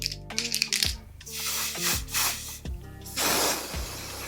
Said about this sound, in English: I'm gonna shake the can and spray the lace real quick on it